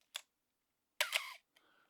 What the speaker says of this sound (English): listen to that shutter